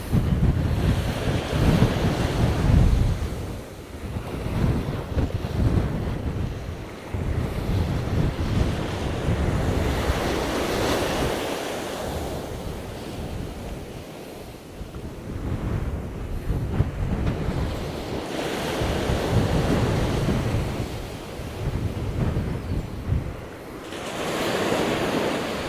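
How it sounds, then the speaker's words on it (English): Strong storm wind buffets the microphone while waves surge and break on the beach at Walcott, a steady roaring wash that swells and eases in repeated sets, with no voices. "The winds are blowing me all over the place, filming gears. Shaking around like mad."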